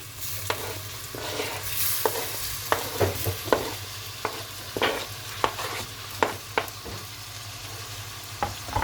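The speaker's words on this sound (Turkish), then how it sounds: "Soğan ve biberlerimiz kavruldu domatesimizi ilave ediyoruz." Tomatoes stirred into sautéed onions and peppers in a pan for vegetable bulgur pilaf: continuous close sizzling with a steady series of sharp spoon scrapes and taps against the pan, no voices.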